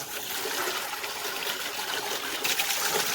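Steady rushing water from a hose rinsing out a box, a continuous hiss and splash that swells slightly near the end, with no talking.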